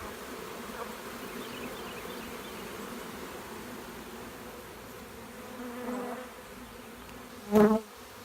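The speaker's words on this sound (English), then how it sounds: "I dumped all the bees on this plywood and they're marching uphill into the box." A swarm of honeybees dumped onto plywood and marching uphill into a nuc box gives a steady, close, even buzzing throughout, with a brief louder burst of buzz near the end.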